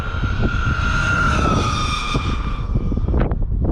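A stock XRT with speed gears runs at full throttle, its engine whining loud and steady with a high tonal buzz and rattling vibration that holds for several seconds, close to the rider.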